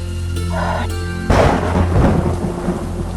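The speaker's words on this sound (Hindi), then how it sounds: "बाहर तो बहुत तेज बारिश हो रही है। जी, और बिजली भी बहुत कड़क रही है।" Heavy rain pours steadily in a thunderstorm, then a loud, close thunderclap bursts partway through and rumbles on under the downpour.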